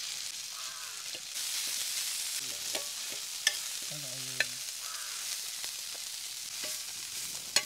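Dried Bombay duck chutney paste fries in oil on a griddle over a wood-fired stove, a steady close sizzle broken by sharp stirring scrapes and clicks.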